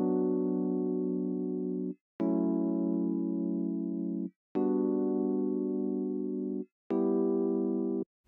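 Dry electric piano with no effects, built for an Afrobeats beat, sounding four sustained chords in an even, slow rhythm, each struck cleanly and held, clear and close with no other sounds.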